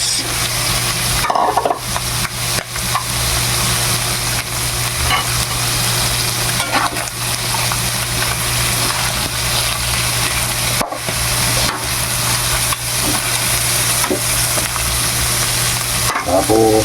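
Meat and chopped bottle gourd (upo) frying in a pan, a loud, steady sizzle with continuous hissing and occasional stirring scrapes, close and unbroken for the whole stretch, no one speaking.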